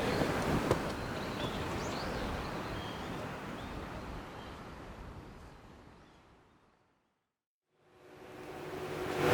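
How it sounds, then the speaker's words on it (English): Wind blowing across a hilltop at castle ruins in Chiba, Japan, a steady broad roar buffeting the microphone that fades away to near silence before gusting back in. "Oh, it's a little windy up here."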